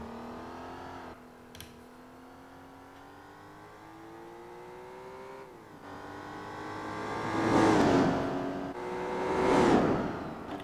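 A naturally aspirated car engine in Gran Turismo 4 climbing steadily through the revs as a smooth rising whine, followed by two louder surging bursts of acceleration, with no talking.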